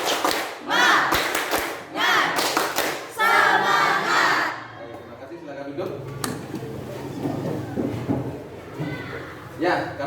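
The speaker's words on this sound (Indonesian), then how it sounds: "tepuk semangat." A standing group at a daytime work training session claps a rhythmic spirit chant together, rapid bursts of loud unison claps mixed with shouting voices, then easing into quieter crowd murmur and a leader talking.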